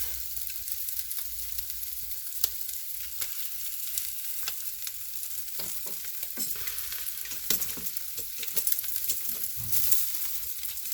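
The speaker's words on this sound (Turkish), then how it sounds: "yağı alev alıyor" Chicken in an olive oil and yogurt marinade sizzles over a wood fire, a dense steady crackle and hiss with sharp pops scattered throughout, heard close and with no talking.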